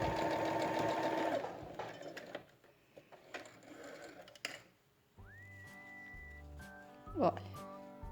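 A sewing machine stitches a seam in a short rapid whirring run at the start, then stops; later a voice talks over faint handling noises and a brief electronic tone.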